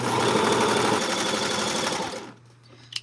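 A serger overlock sewing machine runs at a steady, fast whirring clatter for about two seconds, then stops abruptly, leaving a low hum and a faint click.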